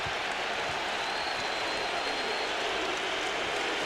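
A broad roar of an NBA arena crowd during a 2001 playoff game between the Magic and the Bucks, a continuous wash of noise rising in protest after a hard foul, with no clear voices standing out.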